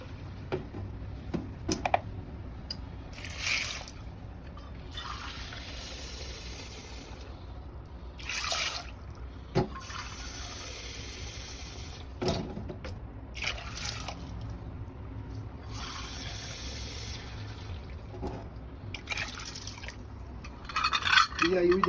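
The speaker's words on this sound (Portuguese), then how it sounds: "Eu vou colocar agora também, com esse mesmo medidor, 4 xícaras de água para a gente poder hidratar esse grão de bico" Four cups of water poured over dried chickpeas to soak them, several short splashing pours at a kitchen counter, with quiet clinks and a voice talking in between.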